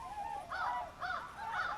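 Wild geese honking overhead in the bush near Lake Huron at Pinery Provincial Park, three clear rising calls in quick succession, moderately distant, with no talk.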